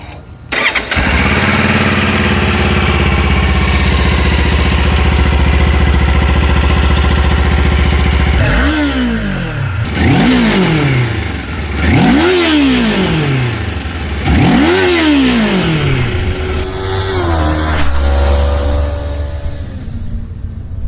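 A Kawasaki Ninja 500 motorcycle engine cranks up and settles into a loud, close idle, then gets four sharp revving bursts that rise and fall before easing back to idle.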